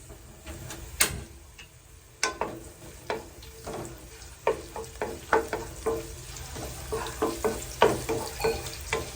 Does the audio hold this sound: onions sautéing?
yes